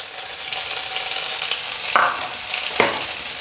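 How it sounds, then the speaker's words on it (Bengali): Pea kachori filling fries in oil in a pan, a steady close sizzle broken by a few louder scraping stirs of a spatula. "এবার খুব ভালো করে তেলের সঙ্গে এটাকে নেড়ে চেড়ে মিশিয়ে নেব"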